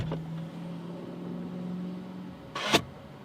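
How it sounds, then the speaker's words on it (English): A car engine idles in a steady low hum at Gatebil Mantorp 2022, with a sharp mechanical clunk and brief burst of noise near the end. "the car sounds really good"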